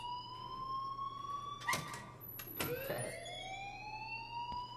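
Alarm ringing in the video game Life is Strange, a steady wavering electronic tone interrupted by a couple of sharp clattering bursts, after which the tone sweeps back up and continues at moderate volume.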